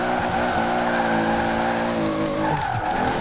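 Toyota Supra with the 2JZ engine drifting in Forza Horizon 4, a steady loud engine drone with tires squealing continuously throughout, briefly shifting pitch near the end.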